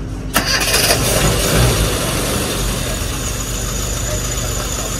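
Car engine cranking and catching, then settling into a loud, steady idle that runs close to the microphone throughout.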